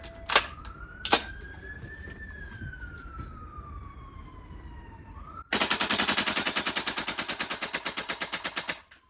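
VFC V3 gas blowback airsoft rifle on full auto, emptying a magazine in a rapid even string of sharp cracks lasting about three seconds, preceded by a couple of single clacks and a rising whine.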